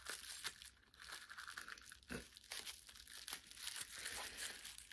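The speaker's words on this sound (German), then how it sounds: "Ich reiß das jetzt auf." A package being torn open gives close, continuous crinkling and ripping of wrapping, with a few sharper tears.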